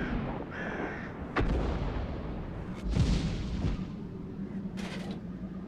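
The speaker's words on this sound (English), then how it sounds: "I don't think that was our own artillery that made that shot." A distant artillery shot in the World of Tanks video game, a single muffled boom with a few sharp bursts and scattered battle noises around it, no talking.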